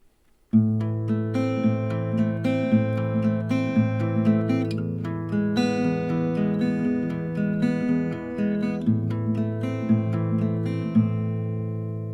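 Acoustic guitar chords ring out in a steady strummed pattern, sustained and clear, played alone for several bars: the chorus chords of a song.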